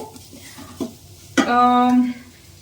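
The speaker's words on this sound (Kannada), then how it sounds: "ಅದು ಫ್ರೈ ಆಗ್ತಾ ಇರ್ಲಿ" Coconut mixture for coconut laddus frying in a pan, with a few soft scrapes of stirring followed by one sharp, loud sizzling burst that holds for under a second before fading.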